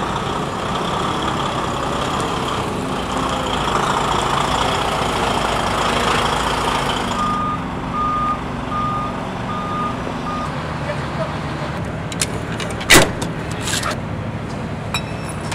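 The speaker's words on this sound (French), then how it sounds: "nous on va pouvoir commencer à faire décharger notre camion." A delivery truck unloading timber footbridge parts at a building site idles steadily while a reversing alarm beeps in a regular series, followed by a few sharp clanks near the end.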